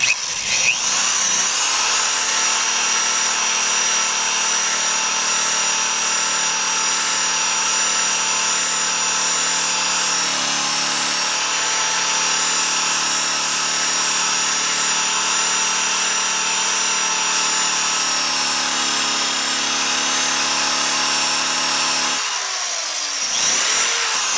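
An ordinary Harbor Freight electric drill running about 2,000 RPM whirs steadily and loudly at close range for about twenty seconds, with a buffing pad hissing against metal while polishing with Flitz, then winds down near the end.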